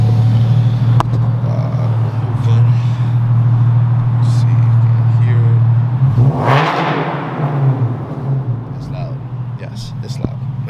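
Loud, modified Nissan 370Z engine idling with a steady deep rumble, then a sharp rev swelling and fading around the middle before settling back to a rougher idle.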